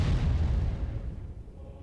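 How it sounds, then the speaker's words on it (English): Artillery fire in the wargame Panzer Corps: a loud, rumbling low boom at the start that slowly decays into a fading roll over about two seconds, with no talk. "more artillery."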